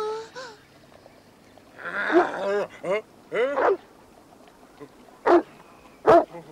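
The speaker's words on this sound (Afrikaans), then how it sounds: "Dis 'n groot hond." A big dog barks in loud, separate bursts, first two clusters of barks and then two single sharp barks spaced well apart, with quiet between them.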